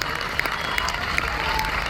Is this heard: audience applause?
yes